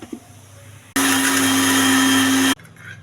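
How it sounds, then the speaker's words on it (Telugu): A kitchen mixer grinder blends a coconut chutney with mint, tomato, roasted chana, salt and a little water. It starts abruptly into a loud, steady whirring roar, runs for about a second and a half, then stops dead, with quiet kitchen sounds before and after. "మిక్సీ వేయాలి."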